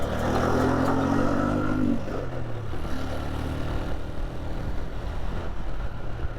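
A 1986 Honda CG125 single-cylinder motorcycle engine hums steadily, its pitch rising then dropping sharply as it shifts up a gear, then pulling on again at a lower drone with road and wind noise.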